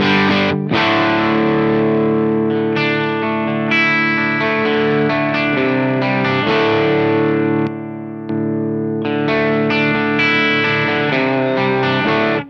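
Electric guitar with single-coil pickups through an overdrive pedal plays sustained chords and melodic lines with a thick overdriven tone, continuously, loud and saturated with no voices.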